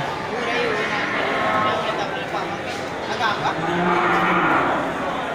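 Young male feeder cattle moo loudly and close by, several overlapping low calls rising over a busy background of voices and farmyard noise.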